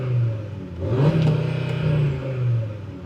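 A close 2025 Audi RS3 engine revs repeatedly, its pitch climbing and holding against a soft limiter with a stuttering buzz before dropping back.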